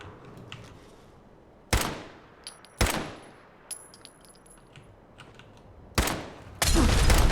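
Gunfire from the Fallout 4 video game: a few sharp, loud shots spaced apart over a quiet background, ending in a dense burst of rapid fire.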